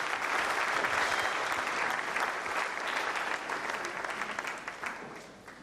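Sustained applause from an audience at a youth-engagement agenda event, dense clapping that stays steady and loud before thinning slightly toward the end.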